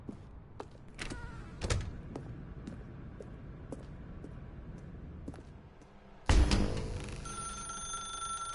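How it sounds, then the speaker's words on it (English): A telephone rings in The Stanley Parable video game, a few sharp bell rings over a quiet room tone, then a louder, sustained ringing burst late on, fairly close. "Now pick up the phone"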